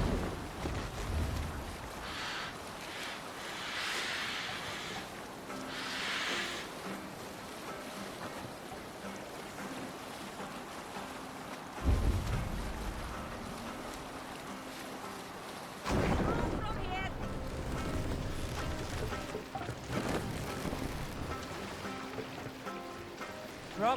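A Viking longship sails the open sea in Assassin's Creed Valhalla: waves wash and wind rushes against the hull, with louder swells surging in around the middle and again later.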